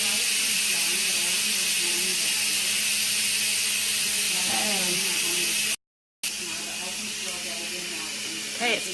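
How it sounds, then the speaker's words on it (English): An Instant Pot pressure cooker vents steam with a steady, loud broadband hiss that runs throughout, briefly cut off, while people talk over it. "The steam is releasing."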